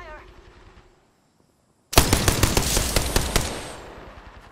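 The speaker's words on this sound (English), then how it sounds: "Bogey in sight. Taking fire." Rapid automatic gunfire from the Apex Legends shooter game bursts in after a near-silent gap. A dense, loud stream of close shots follows, with no talking.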